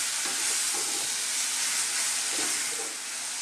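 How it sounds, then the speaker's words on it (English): Vegetables stir-frying for a vegan veggie loaf, a constant loud hiss and sizzle from the pan with soft scraping as they are stirred, close and steady with no talking. "we're kind of just stir frying it really, for about another 4 minutes"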